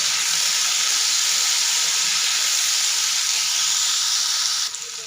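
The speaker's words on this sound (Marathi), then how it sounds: "लिंबू पण टाकून घ्यायचं आणि व्यवस्थित परतून घ्यायचंय।" Steady, loud sizzling of a chili mixture with lemon sautéing in a hot pan, a continuous hiss that drops off abruptly near the end.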